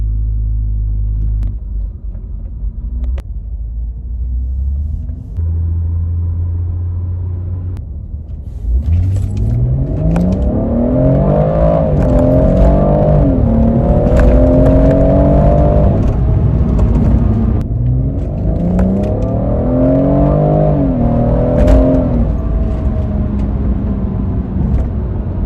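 BMW 140i pulling away and accelerating on the road, its engine rising through two strong revving runs with a gear change between, loud and close, after a quieter idle at the start.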